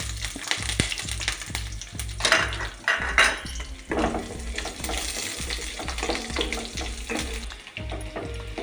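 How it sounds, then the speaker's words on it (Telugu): Tempering spices frying in hot oil in a pan for a small fish curry, a crackling sizzle with clattering utensil knocks and a rhythmic low thumping underneath, heard close and fairly loud throughout. "ఆయిల్ వేడెక్కింది, తాలింపు వేసేద్దాం."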